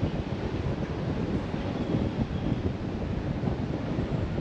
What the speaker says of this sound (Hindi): हवा एकदम तेज़ी से।